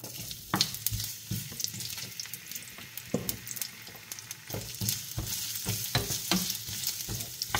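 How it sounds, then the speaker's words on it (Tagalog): Chopped onion fries in a little oil in a pan, a steady hiss and crackle broken by sharp scrapes and clinks of a spoon stirring against the pan, close and with no talking. "maglalagay na tayo ng konting oil sa ating kawali. So, lagay na natin yung ating onion."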